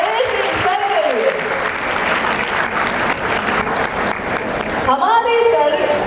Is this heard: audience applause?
yes